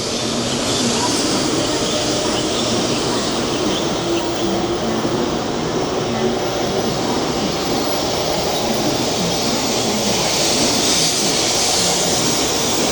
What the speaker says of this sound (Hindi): ये निकल चुकी है ट्रेन भाई साहब